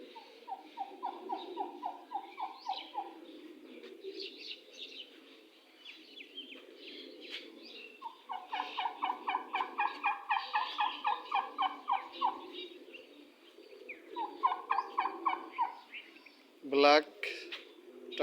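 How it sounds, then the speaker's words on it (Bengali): A black turkey cock gobbles repeatedly in a rural yard beside two hens, sending out rapid rattling bursts in several runs, moderately close, with a sharper squawk near the end. "ডাকতেছে মোরগ।"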